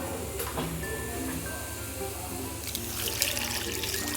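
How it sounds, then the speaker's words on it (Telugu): Water runs and splashes steadily into a pan of bitter gourd with turmeric and salt for a few seconds, close by, over a low hum, with no talking. "వాటర్ పోసి"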